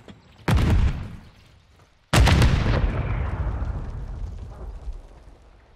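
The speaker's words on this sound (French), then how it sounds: "Lance une grenade." Two heavy blasts in Call of Duty MW3, a grenade going off: the first a sharp boom that fades fast, the second a loud burst with a long, rumbling decay over several seconds. No voices.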